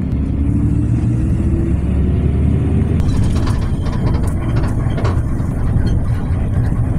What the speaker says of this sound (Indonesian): Sebentar lagi bus akan melaju melalui daerah Pamanukan, Kabupaten Subang, akan naik flyover Kecamatan Pamanukan.